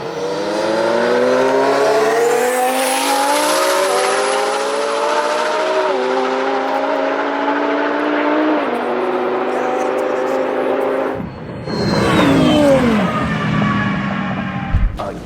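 A twin-turbo Lamborghini Huracan and a McLaren 720S in a drag race roar loudly, engines climbing steadily through the gears with shifts, then a fresh surge of revving near the end as voices talk over the noise.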